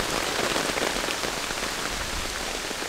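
Heavy rain drums steadily and loudly on a 10 by 10 tarp shelter at a camp, a dense continuous hiss of drops with no voices.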